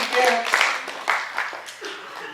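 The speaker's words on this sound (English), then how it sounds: "Give him applause." A crowd at a high school post-prom event claps in short ragged bursts of applause, moderately loud and close, mixed with chuckles and a voice talking over it.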